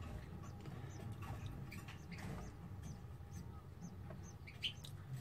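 Canary chicks tucked under their mother in the nest give faint, scattered high chirps against a quiet indoor background.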